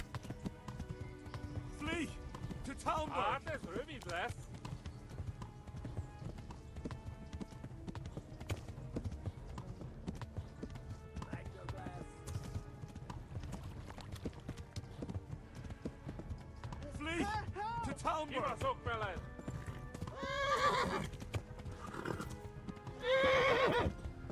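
A horse gallops in the video game Kingdom Come: Deliverance, with continuous clip-clopping hooves broken by several sharp neighs and whinnies, while a voice talks over the action.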